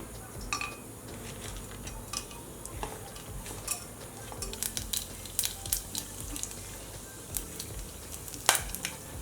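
Whole spices, including big cardamom and shahi jeera, frying in oil for pulao, a soft close sizzle broken by irregular light clinks and taps of a spoon against the pan, no voices.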